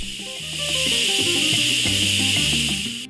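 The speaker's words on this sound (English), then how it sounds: "After 1 hour, release the steam valve and wait." Steam hisses hard and steadily from an Instant Pot's pressure release valve after cooking birria, a loud, sustained jet that swells quickly and cuts off at the end.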